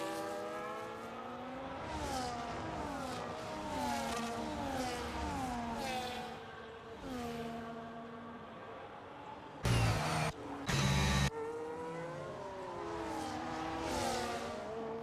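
Race cars in an F1 sim racing game rev high and whine past one after another, engine pitch rising and falling through gear shifts, with a couple of brief bursts of louder noise near the end.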